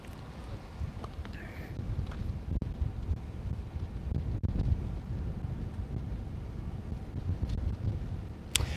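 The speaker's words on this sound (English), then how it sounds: "It is windy. The wind is picking up." Continuous wind buffeting a microphone outdoors at a road block near SpaceX Starbase, Boca Chica, Texas, a low rumbling roar with gusty surges and a few faint knocks, no talking.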